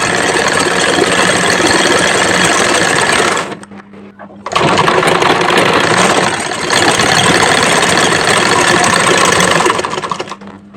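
A sewing machine stitches the side seam of a kameez, its motor a fast, loud, even whir that stops for about a second and then runs on steadily.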